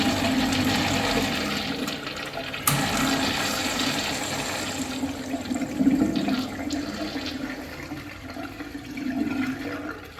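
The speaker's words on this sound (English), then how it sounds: "Let's have a look at a flush." A second-generation Kohler Darfield urinal flushes with a sudden rush of water that keeps gushing steadily at close range, with a steady hum underneath and no voices.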